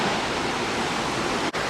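Salto Del Claro waterfall near Pucon, Chile, fed from a volcano, roars as a steady broadband rush of falling water, loud and close, unbroken except for a brief dip near the end.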